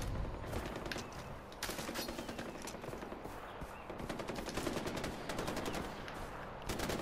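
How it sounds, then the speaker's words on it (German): Far Cry 4 video game gunfight with dense, loud automatic fire and overlapping bursts of shots, firing almost without pause and close in the mix. "Kollegen, warum schießt ihr wie diese Wahnsinnigen?"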